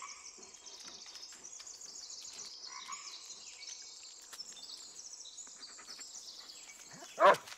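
A dog in the Blair Witch video game gives a single short, loud bark near the end, after a long stretch of quiet forest ambience filled with insects and birds.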